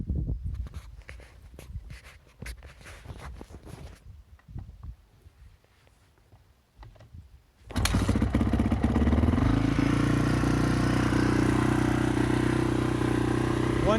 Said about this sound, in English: One kick, fired right up.